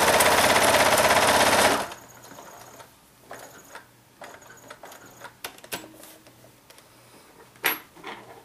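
A sewing machine strip-sews quilt fabric strips in a fast, loud mechanical run for about two seconds before stopping, followed by quiet handling, fabric rustles and small clicks.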